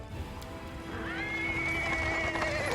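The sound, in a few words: horse-drawn cart approaching on paving stones, video game Pathfinder: Wrath of the Righteous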